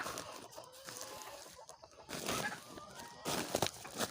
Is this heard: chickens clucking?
yes